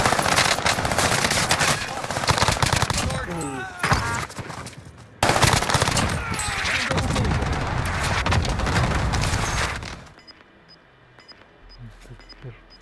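Rapid, sustained turret machine-gun fire in Call of Duty: Warzone Pacific rattles loudly and close for about ten seconds with one brief pause before it cuts off, while players talk over the shooting.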